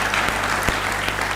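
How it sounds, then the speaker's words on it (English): Short burst of audience applause at a business forum session, dense clapping from a crowd lasting just over a second. "another round of applause for Kudu Tamaga."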